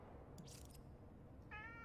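A cat meows briefly, one short faint call near the end of a quiet stretch over low background rumble in a video game.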